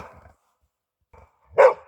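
A dog in a snowy, frosty outdoor setting gives a single loud, rough bark after a few faint low rumbles, with near silence between the sounds.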